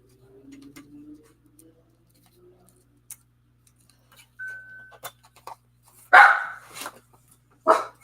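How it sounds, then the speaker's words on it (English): A dog named Teddy barks indoors, two sharp close barks near the end after quieter scattered clicks and small handling noises. "stop barking"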